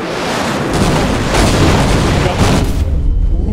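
Airstrike explosions in the online game Criminality roll out as a dense, continuous wall of booming rumble that swells around the middle and tails off near the end, loud and close.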